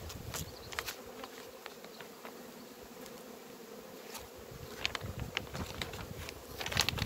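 Honey bees buzz steadily at a hive in cold weather while it is checked for food stores, a close, continuous insect drone with scattered brief clicks and ticks throughout.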